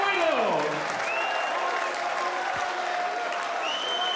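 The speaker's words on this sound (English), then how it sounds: "Well, they're applauding." Crowd applauding and cheering at the 2008 World Darts Championship final after a double-top game shot, a steady roar of clapping and voices with some shouts and whistles cutting through.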